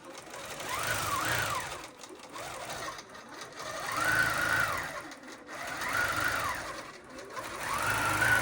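A sewing machine stitches a quilt in a steady rapid whirr that swells and eases in repeated bursts, the motor pitch rising and falling with each pass, up close and with no voices.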